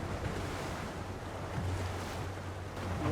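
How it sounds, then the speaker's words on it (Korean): Sea waves surge and break around a small boat off the island of Somaemuldo, a steady, close wash of water and wind noise with slow swells rising and falling. "아이고마 파도가 많이 튼다."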